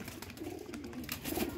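Soft, low cooing from a female Teddy pigeon close by, with rustling and light background noise, fairly quiet overall.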